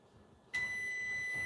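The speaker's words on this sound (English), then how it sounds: "Now that beep y'all are hearing is just that my oven has actually reached 450" Kitchen oven sounds a steady electronic beep once it has preheated to 450 degrees, starting abruptly and holding as a continuous tone at moderate level, with faint room noise before it.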